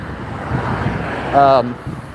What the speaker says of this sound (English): Very windy. I'm walking right into the wind.